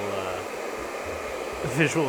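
A hair dryer blows with a steady, whooshing roar throughout, and a voice starts speaking over it near the end.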